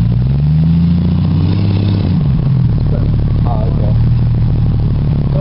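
Engine of an off-road vehicle stuck on a wooded hillside, a loud steady drone whose pitch rises then settles, heavy and close, with people talking over it.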